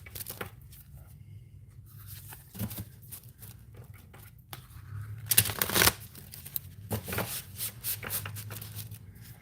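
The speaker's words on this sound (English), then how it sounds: "It shuffles pretty good, by the way, if anybody wanted to know how this deck shuffles." Cards being shuffled several times, quick riffling bursts with soft flutters and brief pauses between, close and fairly quiet.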